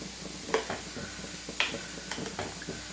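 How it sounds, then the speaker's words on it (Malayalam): Beetroot stirred in a pan with boiling water, salt and turmeric: soft scrapes and a few light knocks of a spoon over a low bubbling sizzle, quiet and close. "എല്ലാം കൂടി ഒന്ന് മിക്സ് ചെയ്ത് കൊടുക്കാം."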